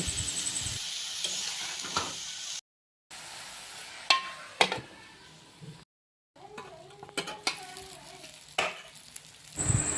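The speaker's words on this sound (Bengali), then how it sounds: "এখন ভালোভাবে লেড়ে চেড়ে ঢাকনা দিয়ে ঢেকে দেব" Potatoes and eggplant frying with spices in a pan, a steady sizzle broken by short scraping stirs, brief clinks and two silent gaps.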